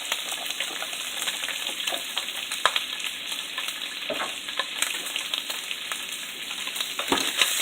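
Sausage for jambalaya fries in a pan with a little broth added, a steady close sizzle and bubbling that runs throughout with occasional scraping stirs.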